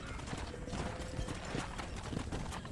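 Horse hooves clip-clop at a steady gallop in the Red Dead Redemption video game, a quiet continuous rhythmic pounding mixed with faint rattling tack.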